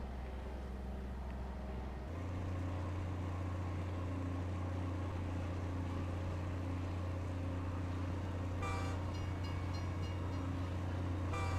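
A train rumbles along steadily in the video game Captain of Industry, with a continuous low running drone that thickens after the start and a brief cluster of higher clanks near the end, with no talking over it.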